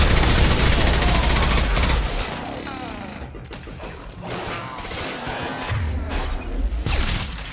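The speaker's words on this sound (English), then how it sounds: "Nice shooting!" Rapid gunfire and mechanical clatter in a sci-fi firefight in Mass Effect 2, loud and dense throughout with bursts of shots layered over booming impacts and background game noise.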